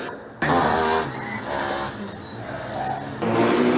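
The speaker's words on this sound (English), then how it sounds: "Milan car seems to sound a little bit different than last time around" Milan team's combustion Formula Student race car roars past on an endurance track, its engine loud and close with a steady high-revving tone that dips slightly and then climbs again.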